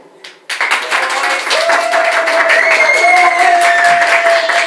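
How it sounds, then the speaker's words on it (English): A round of applause and cheering at a hair and beauty salon's first birthday party, starting abruptly after a brief quiet, then dense clapping with a sustained whistle or cheer riding over it, loud and close. "the girls and Clint need a round of applause"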